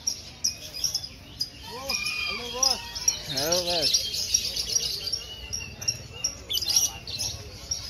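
Small birds chirp and tweet in scattered bursts at a crowded Yogyakarta bird market, mixed with a high steady insect-like whine, while someone speaks in a greeting nearby.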